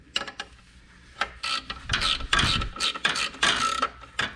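A wrench works on the engine bolts of a 1982 Camaro with its 350 motor, giving a run of irregular ratcheting clicks and metallic scraping, close and fairly loud, with no talking.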